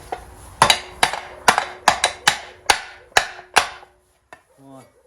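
A ball-peen hammer strikes metal about ten times on an anvil in a steady, ringing rhythm, knocking out a pin, each blow sharp and close, followed by a short pause and a faint rattle.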